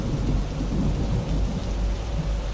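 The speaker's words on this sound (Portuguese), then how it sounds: "esse detalhe da chuva aqui tá bem real mesmo" Heavy rain with rumbling thunder from a thunderstorm in the Truck Simulator Europe 3 driving game on Android, a dense, steady roar filling the scene with no voices.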